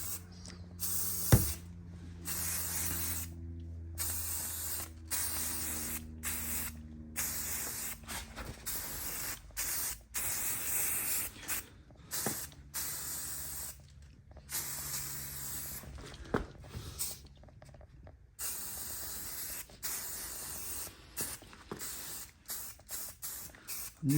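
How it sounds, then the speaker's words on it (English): Krylon Fusion matte white spray paint hisses from an aerosol can in a series of short bursts separated by pauses, applied as light coats at close range with no talking. "Just gonna take the Krylon Fusion in a matte white and give it some light"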